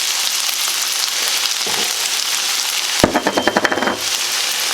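A pound of mushrooms and garlic hitting a hot pan for a creamy Italian sausage pasta, with a continuous close sizzle and a sharp burst of crackling and spitting partway through as more goes in, no voices.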